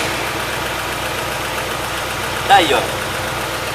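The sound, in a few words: car engine idling with radiator cooling fan running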